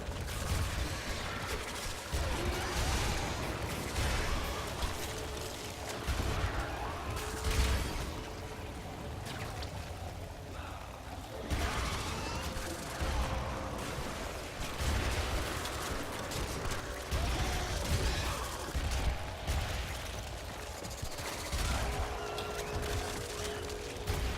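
Hek shotgun firing rapidly in the video game Warframe, a dense run of overlapping blasts and impacts with game effects and a low rumble underneath, continuous and loud throughout.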